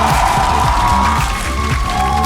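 A home arena crowd at the 2022 LEC Spring final in Berlin, Rogue versus G2, cheers and claps in a continuous loud roar, with a faint tonal hum running underneath.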